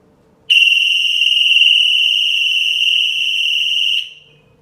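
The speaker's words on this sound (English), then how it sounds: "So as you can see, the door opened, the alarm went off." A loud, piercing electronic home security alarm tone, set off by a door opening, starts abruptly, holds steady for about three and a half seconds, then cuts off.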